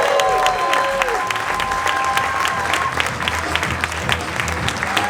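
Sustained applause from a live audience at the Life Plugin event in Goa fills the room, dense and steady clapping with some crowd murmur, welcoming a speaker to the stage.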